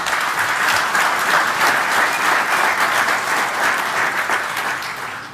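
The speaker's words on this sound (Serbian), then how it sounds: "Nemojte prerano da tapšete" An audience at a presidential programme presentation breaks into sustained applause, with many hands clapping in a loud, dense wash that holds steady for several seconds before easing slightly toward the end.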